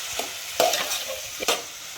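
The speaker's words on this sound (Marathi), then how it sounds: "हे फोडणीमध्ये परतून घ्यायचं" Soft sizzling of a spice mixture with coriander sautéing in hot oil for bhaji, with a few scraping stirs of a spoon, close by and without talking.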